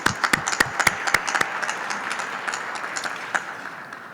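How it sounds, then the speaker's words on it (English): Audience applause at a city press conference: a few sharp nearby claps up front, then a moderate spread of clapping that gradually thins over about four seconds. "Another round of applause for that as well, too."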